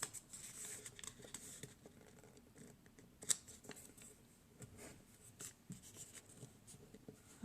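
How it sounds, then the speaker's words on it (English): Origami paper being folded and creased along its bottom edge, with soft scraping, rubbing and crisp taps close by in a quiet room, no talking. "I'm going to rotate the paper and do it again on this bottom edge."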